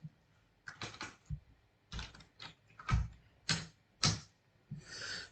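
Someone types Python code on a computer keyboard in a few separate bursts of sharp clicks at close range, with short gaps between groups of keystrokes and no voices.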